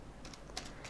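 Keyboard keystrokes, a few soft scattered clicks over about a second at low level, with no talking.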